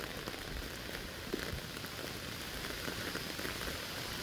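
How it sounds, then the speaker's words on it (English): Rain starting to fall outdoors, a dense, constant patter of drops on surfaces with a few louder nearby splats, steady throughout and without talk. "Oh my god, it's really starting to rain."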